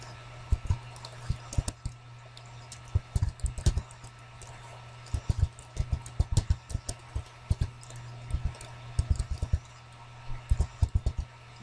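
Computer keyboard typed on in quick bursts of clicky keystrokes with short pauses between words, close and clear over a steady low hum, no one speaking.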